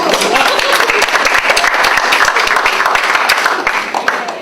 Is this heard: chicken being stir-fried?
no